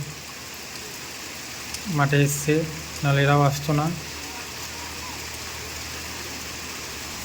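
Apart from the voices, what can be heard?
rain falling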